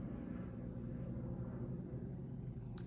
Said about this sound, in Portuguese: Não é um helicóptero, é um avião, na verdade